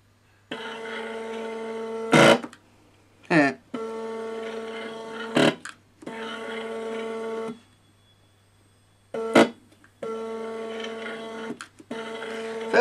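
A DIY Eaglemoss 3D printer kit powers up and makes its first movements, buzzing in several steady motor bursts separated by silences and sharp clicks, loud and close with no talk.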